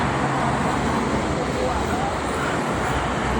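Continuous roar of vehicle traffic on the Jakarta–Cikampek toll road, a dense broadband rush of passing cars and buses with wind noise, and a voice talking over it.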